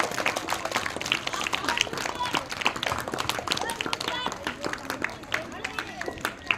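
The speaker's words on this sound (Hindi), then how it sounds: "सदर साहब जोरदार तालियों के साथ" An audience at a school prize-distribution ceremony claps steadily and densely through the whole stretch, with a murmur of crowd voices and talk blended into the applause.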